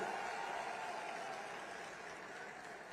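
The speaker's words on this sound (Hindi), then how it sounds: "सारथी जरा जोर से ताली बजाओ" Audience clapping in an auditorium at the launch event of a cooperative taxi service in Gujarat, a faint steady patter of applause that fades slightly toward the end.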